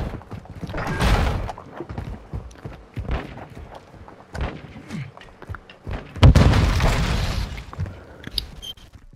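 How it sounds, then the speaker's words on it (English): Detonated charge in the video game Modern Warfare 2, a deep booming blast with broadband rumble, surrounded by scattered gunfire pops and thuds, loudest around the six-second mark before trailing off. "Sabre 1, set a charge on the target and detonate it"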